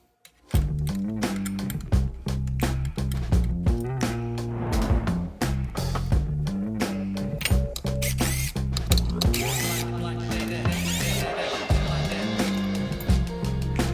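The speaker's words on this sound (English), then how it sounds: "we gotta take off all these screws that go around here that holds the case to the side of the main block here" A power tool or ratchet backs out the screws holding a clutch case cover to the main engine block, in rapid repeated bursts of whirring and clicking, close and steady throughout with no speech.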